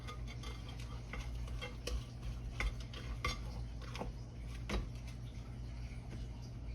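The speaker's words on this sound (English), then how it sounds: "Scrape down the bottom. Make sure the bottom's good and scraped." A utensil scraping the bottom of a bowl of buttermilk butterscotch cake batter, with quiet, steady scrapes and soft clicks of contact over a low background hum.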